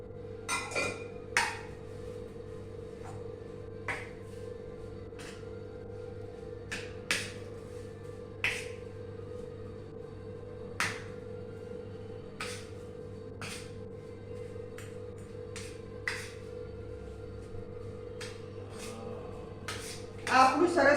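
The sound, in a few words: mixing dudhi muthiya dough with oil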